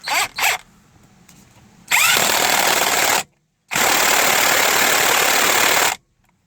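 A power tool runs down a T50 bolt on a Chevy Malibu steering wheel. After two short clicks it gives two loud, close bursts of whirring rattle, with a brief pause between them, then stops.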